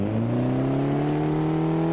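Puma GT5-class race car engine in Automobilista 2, revving steadily with rising harmonic tones, loud and close throughout, alone without talk.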